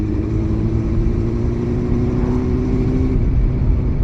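A Honda CB400 motorcycle engine idles nearby in a steady, even drone with a low humming tone and no voices.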